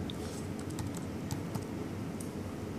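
Computer keyboard keys clatter in quick irregular bursts, close and fairly loud over a steady background hum, with no voices.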